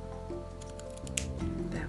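A couple of quick snips from scissors cutting through ribbon, close by, with light handling noise around them.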